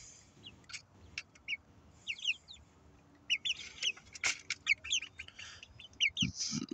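Several hens and pullets of the same breed cluck and chirp softly in short, scattered calls, fairly close, with light rustling in between.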